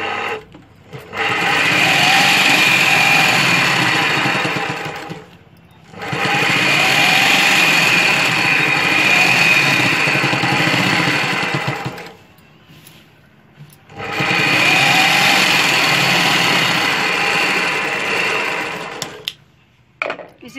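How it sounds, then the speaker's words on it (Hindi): A sewing machine press-stitches a dhoti shalwar in three long, loud whirring runs, with short pauses of silence between them. "इसके ऊपर से प्रेस सिलाई लेंगे।"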